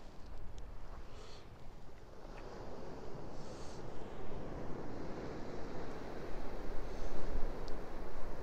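Sea waves breaking continuously along the rocky Amaharashi coast at Yoshitsune Rock, a steady broadband wash rising and swelling slightly toward the end, mixed with wind buffeting the microphone and no talk.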